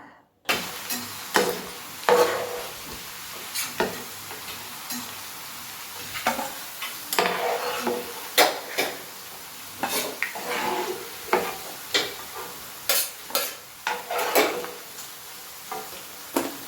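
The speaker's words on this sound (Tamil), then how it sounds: "இப்போ ஸ்டவ் ஆன் பண்ணி இதை முதல்ல ஆயிலில் போட்டு பொரித்து எடுத்துக்கலாம்" Chopped parotta pieces fry in hot oil for chilli parotta, a continuous close sizzle broken by repeated scraping and stirring clinks of a utensil against the pan at an uneven rhythm.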